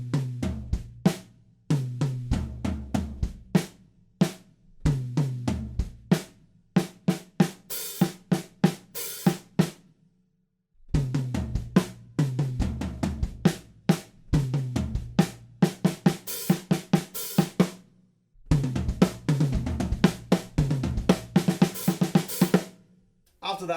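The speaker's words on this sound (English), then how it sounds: "There's a tricky little fill with some sizzled hi-hats on the E of 3 and 4." Drum kit playing a song, with a tricky fill and sizzled hi-hats: punchy kick and snare hits in steady bursts, sharp hi-hat sizzles between, broken by short pauses, close and loud.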